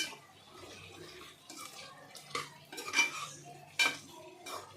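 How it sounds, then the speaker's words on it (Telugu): Chicken pieces are tossed with chili powder, coriander powder and garam masala in a metal vessel, giving soft wet mixing sounds and sharp clinks of a spoon on the pan, with no one speaking. "ఈ 3 యాడ్ చేసి ముక్కకు బాగా పట్టే విధంగా మిక్స్ చేసుకోండి"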